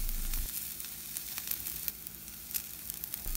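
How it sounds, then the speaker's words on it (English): Five crushed garlic cloves frying in a pan for Tirunelveli idli podi, a steady close sizzle with light crackles running throughout, no talking. "Add 5 crushed garlic to this and fry it for minimum 1 minute"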